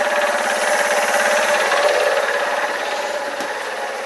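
A Keeway RKV125 motorcycle engine idles steadily and loudly nearby, holding a continuous rough buzzing drone that fades slightly toward the end as it runs out of fuel, with no talking.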